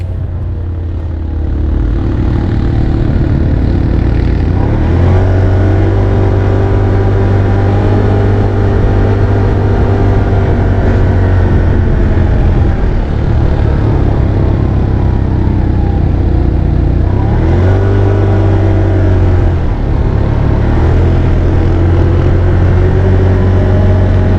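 Off-road vehicle riding on the sand dunes at Dumont Dunes around sunset, heard as a loud, close, continuous engine roar whose pitch rises and falls with throttle changes for the whole stretch, with no talk.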